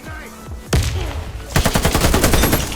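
Gunfire in an online shooter video game, a single sharp shot followed by a rapid burst of automatic fire with evenly spaced loud cracks, close and dominant.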